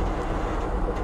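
The Siliwangi train creeps slowly across a rail bridge, giving off a continuous low, heavy rumble with no distinct clacks, close and fairly loud for a short stretch.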